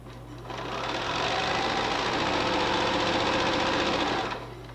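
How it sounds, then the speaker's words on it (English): A sewing machine runs a steady stitching burst joining quilt pieces along a pinned line with a quarter-inch seam, starting and stopping cleanly with a close, even mechanical whir and no talk. "sew them together along the line we pinned"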